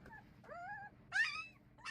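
Newborn puppies whimper and yip in thin, high, wavering cries, close by, several short calls with brief pauses between them.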